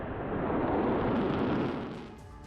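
A blast after an Iranian ballistic missile strike on Tel Aviv gives a loud, broad rumbling roar that holds steady, then slowly tapers off, with no voices.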